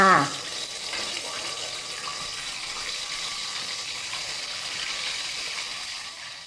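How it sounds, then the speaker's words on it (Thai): A constant crackling hiss of fish frying in hot oil fills the clip, opening with a brief splash-like burst as the fish drops in, then steady sizzling. "ค่ะเมื่อน้ำมันร้อนนะคะ ก็ใส่ปลาลงไปทอดได้เลยค่ะ"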